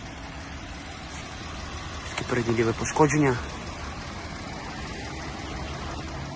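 A 2018 Volkswagen Atlas SEL with about 116,000 miles and some error codes runs at idle, a steady low engine hum throughout, with someone speaking briefly over it in the middle.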